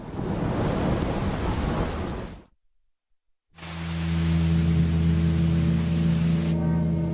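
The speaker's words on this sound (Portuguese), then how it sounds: "Uma chuva torrencial pega de surpresa os moradores do Rio de Janeiro, no Brasil." Torrential rain pours down in a Rio de Janeiro thunderstorm, a loud dense hiss that cuts off into a second of silence, then returns with deep rumbling thunder and a low, sustained horn-like drone beneath the downpour.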